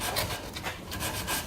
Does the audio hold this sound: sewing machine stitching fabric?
no